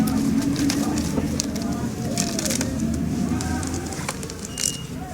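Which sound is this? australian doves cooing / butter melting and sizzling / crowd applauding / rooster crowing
australian doves cooing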